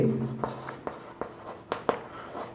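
Writing on a board during a class 6 math lesson: scratchy strokes and several sharp taps as marks are made, steady and fairly close, with brief speech at the very start.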